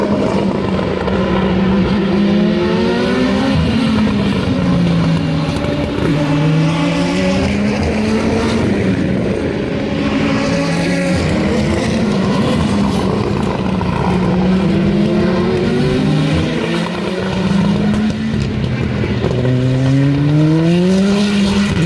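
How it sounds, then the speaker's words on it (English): Race cars at the Indianapolis Speedway scream past at high speed, engines revving and whining up and down in sweeping pitch glides, loud and continuous with passes overlapping throughout. "we heard some cars racing"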